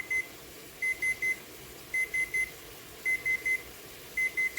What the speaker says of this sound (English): So that's the timer for the potato or the roasted veggies.